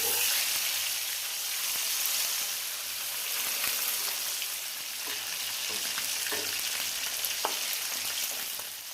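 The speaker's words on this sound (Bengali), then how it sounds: "মাছগুলো খুব ভালো করে ভেজে নিতে হবে" Katla fish pieces fry in oil, a soft, continuous sizzle up close with scattered small pops and light stirring sounds, no voices.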